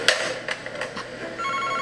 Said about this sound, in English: If the phone rings, just answer it